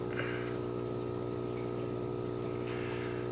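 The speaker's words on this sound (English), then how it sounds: "So all it's doing is sucking in water from the cap through your mechanical filtration sponge, up through your biological, and then out through, and then of course it creates your surface agitation" A homemade bottle aquarium filter pumps water through sponge media and churns the tank surface, giving a steady close bubbling hum with a constant motor drone underneath.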